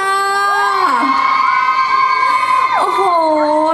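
A large crowd at an outdoor festival concert in Bangkok screams and cheers loudly and continuously, high-pitched shrieks rising and falling over steady roaring voices.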